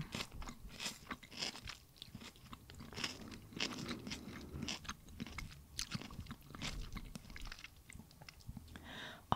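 Herring eaten with sweet white onion, close crunchy bites and steady wet chewing in a quick, continuous rhythm, soft and intimate.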